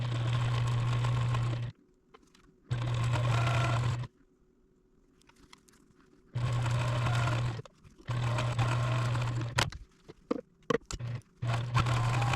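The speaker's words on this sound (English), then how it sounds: "let's go over to the sewing machine and sew these half square triangles" A home sewing machine stitching quilt half square triangles runs in loud, steady whirring bursts, starting and stopping several times with short quiet pauses between runs.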